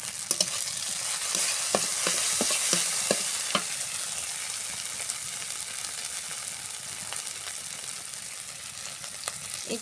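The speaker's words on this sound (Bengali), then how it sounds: "দিয়ে আবারও নেড়ে নেব" Kochu flower curry is stirred in a frying pan, with a steady sizzle broken by crisp scraping clicks from the spoon, close and clear with no voices.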